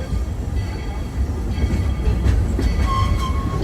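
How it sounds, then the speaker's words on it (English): The Magic Kingdom railroad train approaches Main Street Station with a steady low rumble of the rolling train, a few faint squeals and a brief tone near the end, with no clear talk. "As we're slowly approaching the station, please remain fully seated and fully aboard the train"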